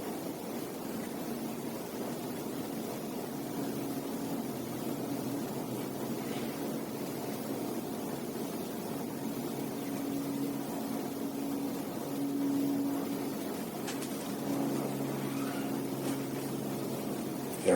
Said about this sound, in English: Airplanes flying overhead.